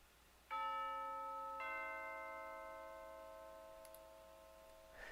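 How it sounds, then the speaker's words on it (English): Chimes from a background music track play alone, two bright struck tones ringing out in quick succession and sustaining with a long, slowly fading decay, quiet and clean. "Just listen to the chimes by itself."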